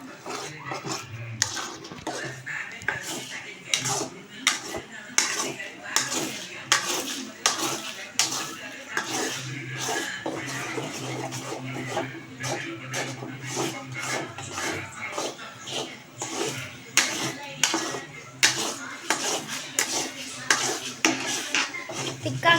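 Egg mixture beaten in a pan over a low flame for egg podimas: steady, rapid scraping and clinking of a utensil against the pan, with a voice speaking over it.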